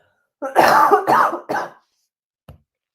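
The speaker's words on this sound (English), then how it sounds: "Sorry for the cough." Three harsh coughs in quick succession from someone close by, followed by a brief throat-clearing after a short pause.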